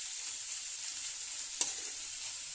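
Green vegetables frying in a pan for pasta give a soft, steady sizzle, quiet and even, broken by a single brief clink or stir midway, with no speech.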